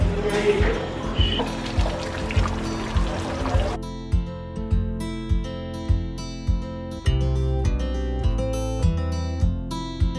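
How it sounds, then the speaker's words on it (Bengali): A cup of water is poured into chicken cooking in a pot, giving a splashing rush for the first few seconds over steady, rhythmic background music that carries on alone afterward. "এক কাপ মতন আমি এখানে জল অ্যাড করলাম"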